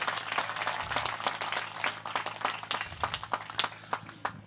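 An audience at a Hindi poetry gathering claps for the organizing committee: dense, steady applause of many hands runs through the whole stretch at moderate loudness, with no voices over it.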